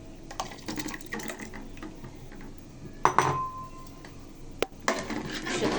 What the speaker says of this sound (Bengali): সুজিটা দিয়ে নাড়াচাড়া দিয়ে রান্না করে নেব যতক্ষণ না সুজিটা সিদ্ধ হয়।